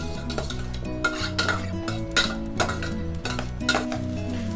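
Potatoes cooking in butter in a pan for a pasta dish, heard as repeated metal utensil clinks and scrapes against the pan over a soft sizzle, with no voices.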